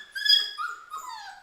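An unhappy adult dog whimpers and whines in high, wavering cries, a short rising yelp followed by two drawn-out falling whines, close and fairly loud with no talking.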